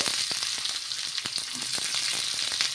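Chopped onions drop into hot oil with urad and chana dal, hissing in a loud, continuous sizzle broken by crackling pops throughout.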